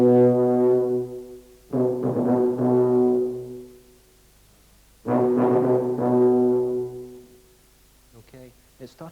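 A tuba sounds two long loud sustained notes with dense harmonics, each swelling and then fraying as the tone breaks up, close and with no talk over them, in a brass master class.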